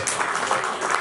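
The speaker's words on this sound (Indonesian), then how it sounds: "Beri tepuk tangan yang meriah bagi Tuhan dulu" A church congregation applauding at a Pentecostal GPdI Christmas service in Balikpapan, heard as dense, continuous clapping from a crowd over about a second.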